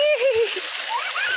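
Water splashes close by in short bursts at a temple outing in Satara, with a child's and adults' voices talking over it.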